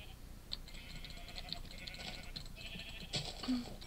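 Sheep bleat repeatedly in Minecraft, several short wavering cries spaced across the clip at a moderate, fairly close level, with no talk over them.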